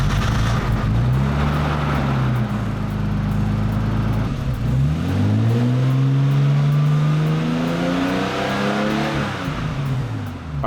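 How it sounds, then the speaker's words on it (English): A Nissan Skyline R32 car engine runs close by, rising and falling through several strong revs with a deep, rumbling drone between them. "we have to get a video of it running so that when I sell the engine"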